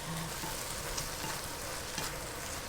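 Kimchi stir-fries in a pan for kimchi stew, giving a steady close sizzle and crackle with faint scraping from stirring, heard alone without talk.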